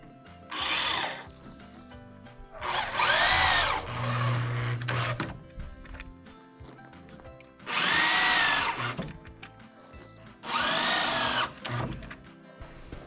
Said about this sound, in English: this is the first time I use those construction screws. I like them. They really go in and dig in good